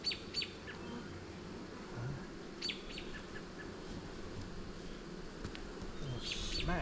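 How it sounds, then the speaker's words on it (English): Honeybees from a May swarm drone in a low, continuous buzz close by, with scattered brief chirps and higher insect whines over the steady hum. "There's a lot of bees in there."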